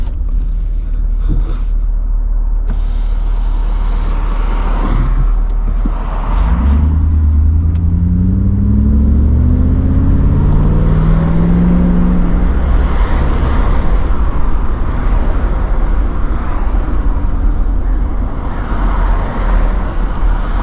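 A Mercedes 500SL with its muffler deleted pulls away, a loud deep exhaust rumble swelling with rising revs under steady wind and road noise, holding a heavy drone through the rest of the drive.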